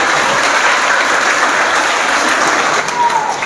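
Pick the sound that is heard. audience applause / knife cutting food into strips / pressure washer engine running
audience applause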